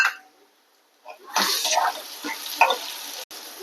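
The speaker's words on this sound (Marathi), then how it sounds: "आता मी ना अर्धा टोमॅटो टाकते त्याला, तो पण चांगला फ्राय करून घेणार आहे।" Half a tomato dropped into a hot pan for a Khandeshi varan batti, starting near silence and then bursting into a loud, steady sizzle of frying that carries on through the rest.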